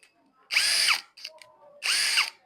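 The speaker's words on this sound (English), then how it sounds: "the first thing to do is to drill with this, the same place where you mark the other time" A power drill boring into a door to fix the handle, two loud close bursts of whirring with rising and falling pitch, separated by a short pause with faint clicks.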